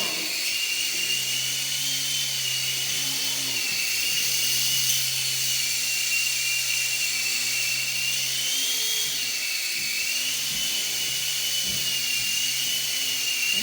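Small Skyrover Knight Vision infrared RC toy helicopter flying indoors, a steady high-pitched electric motor and rotor whine with a lower drone, continuous and fairly close, no talking.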